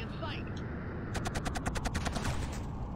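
Rapid automatic gunfire in the video game Killzone, a steady rattling burst of about a dozen evenly spaced shots over a loud battlefield rumble, with a voice briefly heard underneath.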